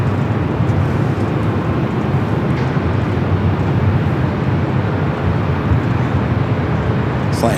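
Delta airliner being pushed back at LAX, a loud, steady broadband engine rumble and roar held evenly throughout, close and continuous with no talk over it.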